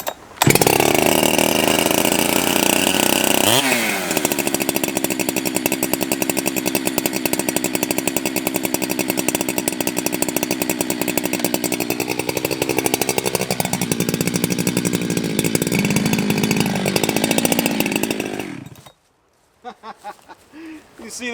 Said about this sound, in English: I do always let my saws warm up